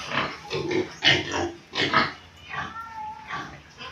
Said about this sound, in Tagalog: At ito po ang aking mga alagang biik.